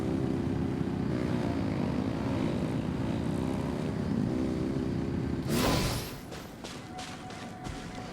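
Engines revving in Genshin Impact, a steady droning motor roar that holds loud for several seconds, then cuts off abruptly into quieter clattering and scattered game sounds.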